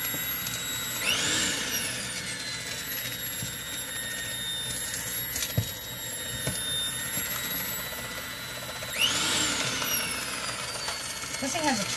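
Electric hand mixer whirring at low speed while mixing homemade brown sugar in a bowl; a thin, steady motor whine with rattling beater scrapes and brief louder swells, no clear talk over it.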